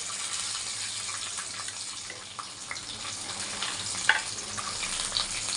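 Chana dal and peanuts fry in hot tempering oil for lemon rice with a steady close sizzle and crackle, plus an occasional small pop or stir.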